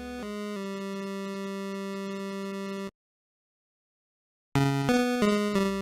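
Famicom APU pulse-wave channels play a Castlevania III melody in bright, buzzy square tones: a long held note, a sudden gap of silence, then a quick run of short stepping notes, loud and alone.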